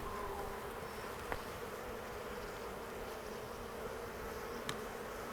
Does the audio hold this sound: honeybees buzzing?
yes